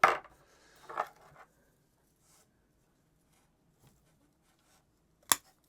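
Pruning shears snip branches off a bird's nest spruce bonsai, a few sharp close clicks and cuts separated by near silence, with one crisp final snip at the end.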